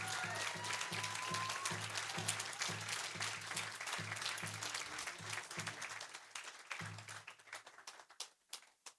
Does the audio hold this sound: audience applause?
yes